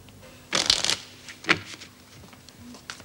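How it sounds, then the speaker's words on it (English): Playing cards are shuffled in two quick riffling bursts, one longer and one short, close and crisp in a quiet room. "you're shuffling the flaming spots off them"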